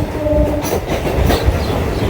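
A Kolkata Circular Rail local on the Sealdah–BBD Bag line rumbles along loud and close, with clattering wheels and brief metallic squeals over a steady low roar.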